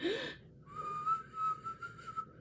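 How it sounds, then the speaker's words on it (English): A person whistles a wavering, sustained tone for nearly two seconds after a brief breathy sound at the start; close and fairly soft. "I suck at whistling"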